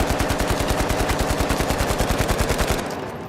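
A fast automatic weapon in the shooter game The Finals fires a rapid, evenly spaced burst of about thirty loud, close shots. The burst stops abruptly and leaves a short fading tail.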